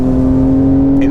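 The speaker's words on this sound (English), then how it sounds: "it still sounds like a flat 6" A 2020 Porsche 992-generation 911 flat-six engine revs steadily with a strong, sustained drone, close and loud, with no talk over it.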